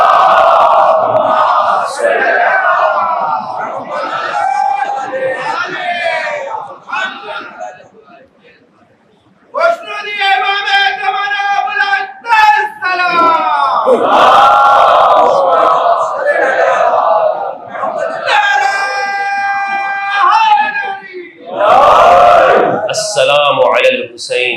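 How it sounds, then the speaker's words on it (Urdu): A crowd at a Shia majlis recites salawat loudly in unison, voices rising together in repeated collective chants with short breaks, loud and close. "باواز بلند صلوات پڑھیے محمد و آل"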